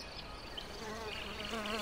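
Honeybees and other foraging insects buzz steadily around wild dog roses in a hedgerow, a continuous close drone that wavers slightly in pitch, with no voices over it.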